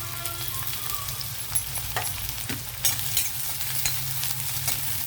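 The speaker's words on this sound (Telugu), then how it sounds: "స్టవ్ ఆన్ చేసి కడాయి పెట్టి ఆయిల్ వేసాను ఒక స్పూన్ ఆయిల్ అది హీట్ అయ్యాక ముందుగా మనం ఉల్లిపాయలు వేద్దాం" Onions fry in a spoonful of hot oil in a kadai on a stove, giving a steady close sizzle with occasional spoon clinks and stirring scrapes, no speech.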